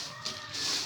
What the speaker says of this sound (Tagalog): Sa loob ng flying pin, ayan may mga inahin.